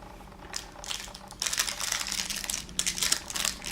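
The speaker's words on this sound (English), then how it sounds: "I am removing the plastic" Plastic coating is peeled off a burned, fake Chinese LED bulb sold as high wattage. It makes crisp crinkling and crackling in uneven bursts, close and fairly loud, with no talking.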